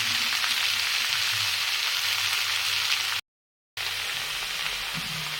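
Leafy greens and green chilies hitting hot oil in a frying pan give a steady, loud sizzle and crackle, broken by a brief silent gap before the frying resumes.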